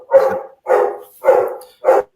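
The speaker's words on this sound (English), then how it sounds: "you're hearing my dog in the background" A dog barking in a home, four evenly spaced, fairly loud barks heard alone.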